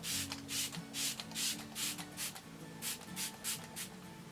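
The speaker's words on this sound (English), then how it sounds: "I just like to spray a bunch of Smashbox primer water on my skin." Short hissing bursts of Smashbox primer water sprayed onto a face, about a dozen quick puffs in an uneven rhythm, close and clear with no talking.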